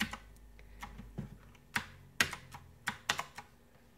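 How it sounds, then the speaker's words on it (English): Clacky keystrokes on a mechanical gaming keyboard with blue switches, irregular and close-up, with a few sharper, louder key presses standing out against a quiet room. "as you can hear, it's got a sound to it when you're typing"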